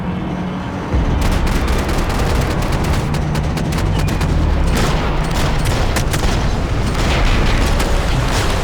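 Dense gunfire in the video game Max Payne 3, loud rapid bursts and booming shots overlapping continuously in a sustained firefight.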